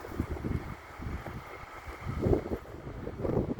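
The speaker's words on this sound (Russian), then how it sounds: "Тут ветер, наверное, меня не слышно" Gusty winter wind buffets a microphone outdoors on a snowy city street, producing loud low rumbling bursts that swell and fade irregularly, strongest toward the end, with no speech.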